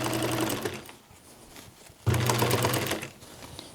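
A sewing machine back-stitches over a cloth strap on a ninja-style fabric face mask, running in two steady bursts with a brief slowdown between them, close and clear.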